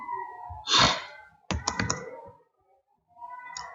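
Computer keyboard typing, a brief cluster of close key clicks in the middle, set between soft breathy sounds near the start and end.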